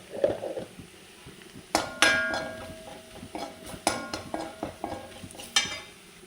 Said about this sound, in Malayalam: ഉള്ളിയൊക്കെ മൂത്ത് വന്നു. ഇനി അതിലേക്ക് നമ്മൾ മുളകും പൊടി ഇട്ട് കൊടുക്കാം.